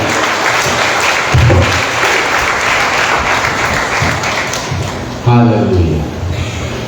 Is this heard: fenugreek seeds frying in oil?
no